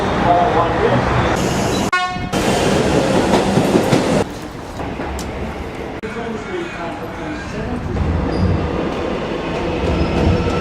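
Train ambience on a City Loop platform at Richmond Station in Melbourne, with continuous rumble and rail noise throughout, a brief sharp horn-like burst around two seconds, and people talking in the background.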